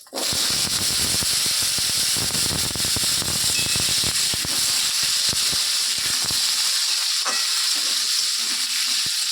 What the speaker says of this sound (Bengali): আর এই যে আলুটা এইভাবে কেটে নিয়েছি, আলুটা এখন দিয়ে দিচ্ছি।